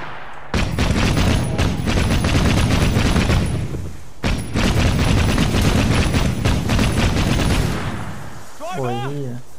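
Sustained heavy gunfire in Assassin's Creed Syndicate, loud continuous bursts broken by a brief pause, then fading as a voice speaks at the end.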